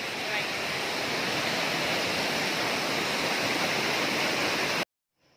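A waterfall in Buscalan roars as a steady, loud, broadband rush of falling water close by, continuous for about five seconds before cutting off abruptly.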